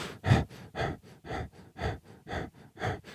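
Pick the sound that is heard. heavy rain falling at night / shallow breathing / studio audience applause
shallow breathing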